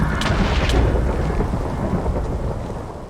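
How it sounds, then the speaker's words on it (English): Thunder from lightning striking during a Minecraft thunderstorm rolls in as a deep, loud rumble over steady falling rain, fading slightly toward the end. "It involves striking the blocks with lightning, which is most easily done with a channeling trident, a lightning rod, and a thunderstorm."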